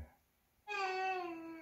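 A child in the 1967 Robert Bresson film Mouchette cries out, a single sustained wail that begins suddenly after a quiet moment and holds steadily, close and clear, with no talk.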